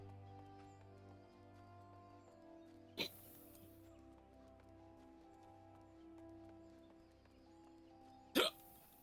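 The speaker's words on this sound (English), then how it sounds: "I got hiccups now." Two sharp, isolated hiccups from a person, the first about three seconds in and the second, louder one near the end, set against a quiet, faintly humming background.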